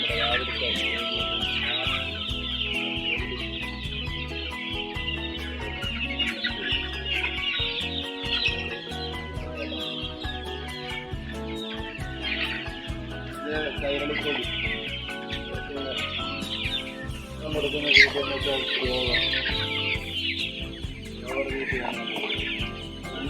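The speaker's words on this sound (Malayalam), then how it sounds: "നമ്മുടെ കോഴിക്കുഞ്ഞിന് തീറ്റി കൊടുക്കുകയാണ്" A flock of chickens clucks steadily on a farm while chicks are fed, with scattered chirps and squawks over a constant farmyard hum.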